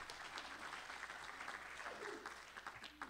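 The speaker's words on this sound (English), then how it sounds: "Give him a round of applause, please." Applause from a lecture audience at an entrepreneurship and innovation talk, steady clapping heard faintly and from a distance, lasting about three seconds with no voices over it.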